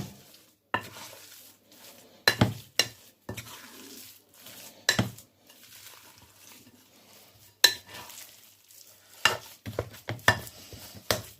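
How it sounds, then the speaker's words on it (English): Egg being stirred into shami kebab mixture in a bowl, with repeated scraping and clinking of a utensil against the dish in an irregular rhythm, close and fairly loud, no talking. "just mix the egg in, and then the whole mixture becomes"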